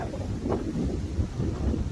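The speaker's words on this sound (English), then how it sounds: "Oh, I don't know if you can hear me. It's windy." Low, rumbling buffets of wind blowing straight into the microphone, gusting unevenly for a couple of seconds with no voices.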